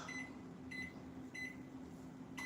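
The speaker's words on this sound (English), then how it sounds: "So we're going to put this into the microwave right now." A microwave oven hums steadily at low volume, with three short electronic beeps spaced evenly over the drone.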